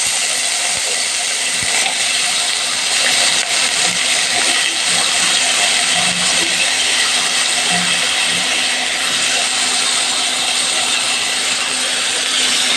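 Pumpkin and potato pieces hit hot oil seasoned with fried panch phoron and dried red chili, giving a loud, steady sizzle that hisses continuously throughout with no talking.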